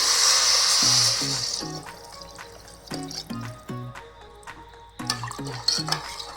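Water pours into a pot of rice and lentils, a brief splashing rush heard up close, followed by repeated ringing metallic clinks of a utensil against the pot.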